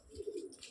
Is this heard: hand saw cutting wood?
no